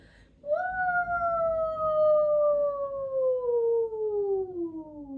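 A voice imitates a siren, holding a loud high tone then gliding slowly downward for several seconds, alone.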